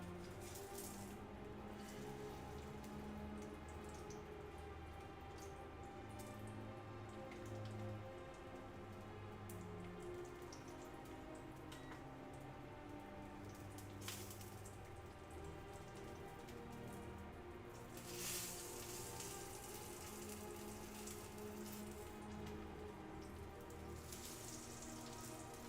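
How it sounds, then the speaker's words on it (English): Porterhouse steak sizzling on a grill: a soft, continuous crackling sizzle with scattered pops, fairly quiet and steady throughout, with no voices. "I'm glad you guys can hear the sizzle."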